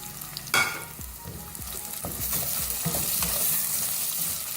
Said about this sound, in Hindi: लहसुन अदरक के पेस्ट के साथ, प्याज के साथ हल्का सा फ्राई करेंगे